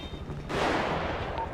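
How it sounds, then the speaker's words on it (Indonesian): Gunfire in a roleplay video game, a sudden loud burst that sustains as a dense, rumbling spray of shots. "Saya mendengar tembakan."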